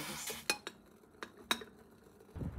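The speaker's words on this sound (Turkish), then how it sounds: "Kapağı da tencerenin kapağında örtülü tutabiliriz." A few sharp metallic clinks ring out quietly as a lid is placed on a cooking pot, spaced irregularly.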